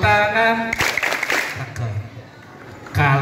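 Children at a school religious gathering clap their hands in a brief burst of scattered claps between sung lines from an adult voice.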